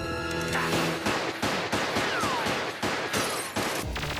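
Rapid bursts of gunfire from the N64 shooter Perfect Dark, played on Nintendo Switch Online, crack out in repeated loud shots, close and steady over a few seconds with no talk.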